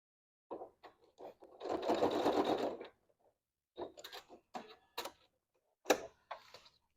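A domestic sewing machine stitches fabric for a tote bag, running in short stop-start bursts with one longer steady two-second run in the middle, close up and moderately quiet, with no talking.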